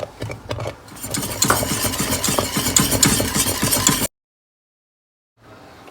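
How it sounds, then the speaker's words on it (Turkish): Rapid rhythmic hand-whisking of butter and cream in a bowl, steady fast strokes for about four seconds, then abrupt silence. "burada bayağı hızlı çırpmak gerekiyor"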